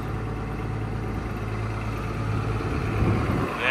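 A farm machine with hydrostatic drive sits running before harvest. Its engine idles with a steady low rumble at moderate volume, and a brief louder knock comes near the end.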